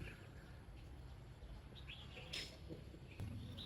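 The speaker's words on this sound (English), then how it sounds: "I think you can hear birds are singing." Birds chirp and call faintly outdoors in scattered short bursts over a low background hum, with no talk.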